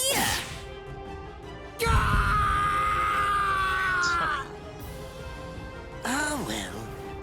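A man screams in pain in the video game Bleach Rebirth of Souls: a sharp impact, then a long strained harmonic cry, a pause, and a second shorter wavering yell.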